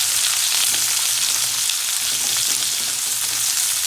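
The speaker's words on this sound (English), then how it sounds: "Now you add the onions and fry for 2 minutes." Onions frying in a pan for an Indian masala potato dish give a loud, dense, continuous sizzle up close, with faint stirring and no voices.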